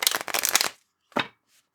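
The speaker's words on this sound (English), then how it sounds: "So let's shuffle those decks here." Lenormand fortune-telling card decks being shuffled by hand: a dense riffling burst for most of a second, then a short second riffle after a pause, close and fairly loud with no talking.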